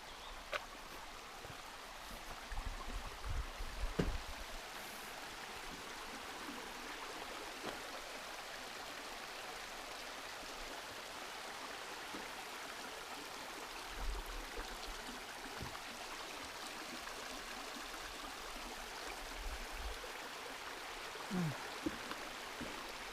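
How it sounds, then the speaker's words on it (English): A creek on the Appalachian Trail, about 1.7 miles north of Uncle Johnny's, runs with a faint, steady, low wash of water, broken by a few soft thumps nearby. "Nice soothing sound of the creek and the water running."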